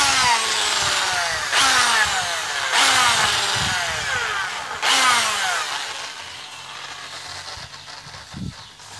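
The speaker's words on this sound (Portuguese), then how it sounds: "Vou passar esse couro de aço aqui pra ver como ficou." A steel wire brush scrubs over a fresh weld on a homemade articulated tractor part, giving loud harsh repeated scraping strokes with a rough rhythmic texture, close up and with no talking.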